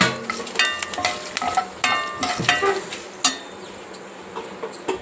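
Dried red chillies, curry leaves and turmeric sizzle in hot oil for a tempering, loud and close, with crackling pops and scraping stirs against the pan in uneven bursts.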